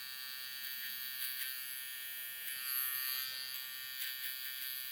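Hair clipper buzzing steadily while cutting a mid skin fade, a faint, even electric hum with small bursts as the blades move through hair, close by.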